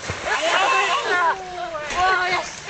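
Swimmers splash and slosh in open water during playful synchronized-swimming antics, bursts of splashing rising and falling close by while people's voices talk and call over them.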